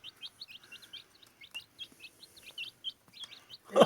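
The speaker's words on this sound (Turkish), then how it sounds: "İki siyah, iki beyaz civciler. Pek de yaramazlar ha." Baby chicks, two black and two white, give rapid, repeated high-pitched peeping chirps, close by and steady throughout, ending with a brief louder knock or rustle.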